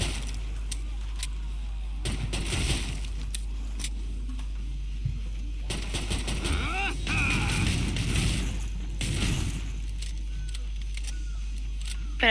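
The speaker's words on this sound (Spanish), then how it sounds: "Apunto, disparo y mato." Bursts of gunfire in the video game Killing Floor 2 crack out in several clusters over a constant low hum, mixed with scattered mechanical clicks and game effects.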